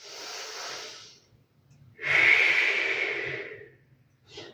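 Two slow, deep breaths are taken during a Pilates side-reach stretch, a soft inhale followed by a longer, louder exhale, heard close and on their own, ending in a brief short sniff.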